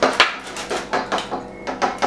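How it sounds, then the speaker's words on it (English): A spoon stirs smooth batter containing baking powder in a bowl, producing rhythmic clinks and knocks against the bowl about every half second, close and loud, with no talk. "Stir that together till it's smooth"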